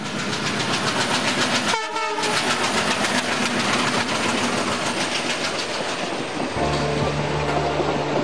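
An Indian Railways train runs past at close range with loud, continuous clickety-clack and rushing noise, a brief gap in the middle, then a sustained horn blast sounding near the end.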